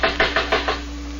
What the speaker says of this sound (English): Driscoll, my first mate, knocked on the door.